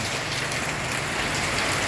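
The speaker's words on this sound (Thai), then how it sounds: "ฝนตกกระหน่ำครับทั้งคืนเลยครับผม" Heavy overnight rain pours down steadily in the town of Surin, Thailand, a dense, loud, continuous hiss with no pauses, and no one speaking.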